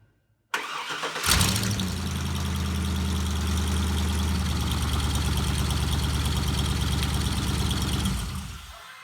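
An LS-swapped Camaro engine cranks briefly, catches, and settles into a steady, close idle that hums evenly before fading slightly at the end.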